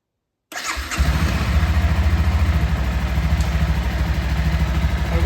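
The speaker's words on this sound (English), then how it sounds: "We're going to let it idle for around 5 minutes" A Honda CBR 300R motorcycle starts after a short silence, then settles into a steady, loud, close idle with an even low throb, no speech.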